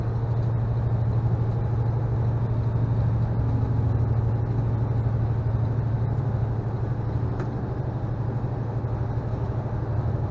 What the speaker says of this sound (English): So yeah, I had to downshift into 7th gear.